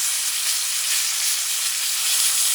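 A beef steak for tagliata di manzo, just flipped, sizzles loudly in a hot pan with a continuous bright hiss and crackle that stays steady and close, with no voices.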